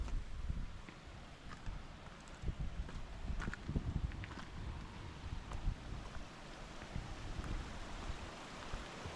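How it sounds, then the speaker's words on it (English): A mountain stream rushing beside the hiking trail to Lake Agnes in the Canadian Rockies, a broad continuous roar of water, fairly faint, with wind buffeting and a few footstep-like knocks. "You can hear the water rushing"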